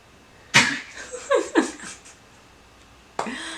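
A dog sneezes a few times close by, short sharp snorting bursts with quiet pauses between, indoors with no talking.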